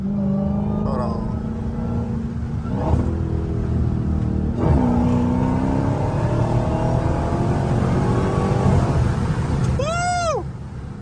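A Hellcat's engine pulls hard under acceleration, its loud rumbling roar climbing in pitch through several rises and shifts from inside the car, with a brief voice near the end.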